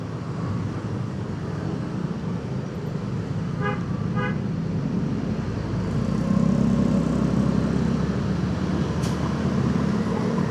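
A truck moves through congested, slow-moving Jakarta street traffic: a steady broadband roar of engines with a couple of short horn toots partway through, and no talking.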